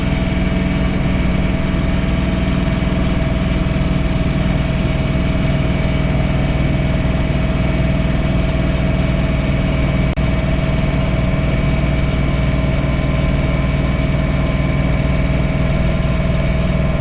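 A John Deere 3046R compact tractor engine runs steadily while snow blowing a driveway, a continuous close mechanical drone with a steady hum and no speech.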